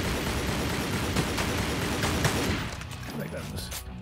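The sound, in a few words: gunfire in video game Tomb Raider Legend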